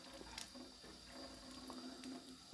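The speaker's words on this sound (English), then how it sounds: "Also, while I'm here, I'll get some tap water." Tap water runs from a kitchen faucet in a steady, quiet stream, with a brief splash and a few light clicks as a container is filled close by.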